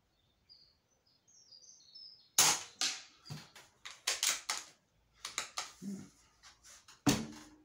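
ATA Airborne air rifle fired outdoors at a 50-yard range: a series of sharp, close cracks at irregular intervals, some followed by faint metallic rattles, with birds chirping in the background.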